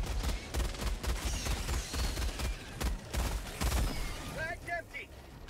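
A 1200 RPM support weapon in Helldivers 2 fires rapid continuous machine-gun bursts, loud and close, with battle noise behind and people talking over it.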